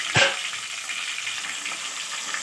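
Ginger and garlic pieces frying in hot oil in a pan while being stirred for a brinjal curry, giving a steady soft sizzle with a brief louder scrape near the start.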